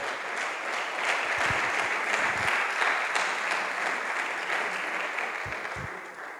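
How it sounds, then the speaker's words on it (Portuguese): Sustained applause from a church congregation during a sermon, steady and fairly loud, gradually fading slightly toward the end. "aplaudam a Ele, queridos"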